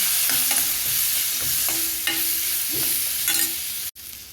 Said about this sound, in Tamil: லைட்டாக கிண்டி விட்டுக்கோங்க